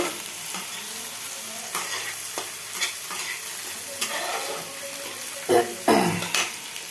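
Green chillies and tomatoes fry in a pan, a constant close sizzle punctuated by repeated spatula stirs and scraping clatters, louder bursts near the end.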